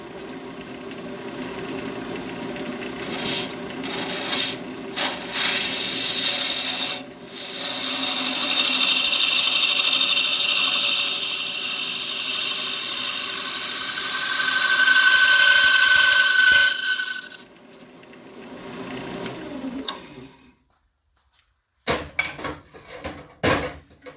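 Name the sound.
scraper scraping wood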